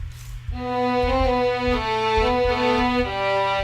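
A synthesized violin lead in Logic Pro X plays a sustained, bright melodic line of several held notes over a steady low bass pattern, with no voices.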